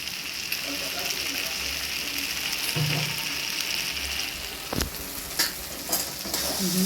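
Spices frying in a pan for a Bengali-style mushroom curry, a continuous close sizzle broken by a few sharp scraping knocks of a spoon stirring against the pan.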